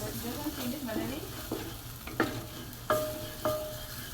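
A spoon stirs ground masala in a pan of frying oil for palak and paneer, giving a quiet sizzle broken by several sharp scrapes and clinks at irregular intervals, with no talk.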